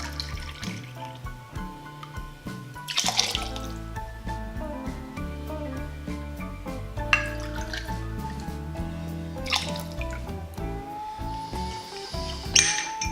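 Rye whiskey being poured into a mixing glass, a steady liquid trickle with a few drips and light glass clinks, close and fairly quiet.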